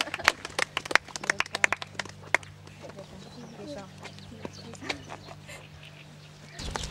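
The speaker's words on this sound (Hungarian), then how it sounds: "Tapsot!" Scattered hand clapping from a small crowd at an outdoor prize-giving for a cycling event in Bábolna, Hungary, sharp and uneven at first, then thinning out under background voices and outdoor noise.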